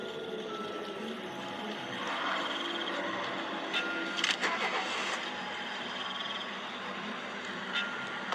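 A cartoon car engine starts and the car drives off, giving a hissing, rumbling engine noise with a few sputtering bursts near the middle, fairly constant and moderately loud, with no talk.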